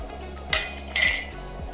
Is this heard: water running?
no